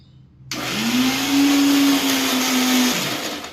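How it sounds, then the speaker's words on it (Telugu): Kitchen mixer grinder blending tomatoes and onions switches on after a short silence and runs loud with a steady whine that rises slightly in pitch, then winds down near the end. "ఇప్పుడు వీటిని మిక్సీ పట్టాలి."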